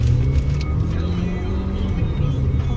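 A car's engine gives a low, steady rumble close by as it pulls away, building slightly in the lower register over a few seconds, with faint talk in the background.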